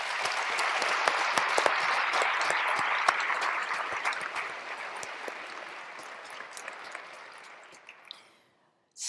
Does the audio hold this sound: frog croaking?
no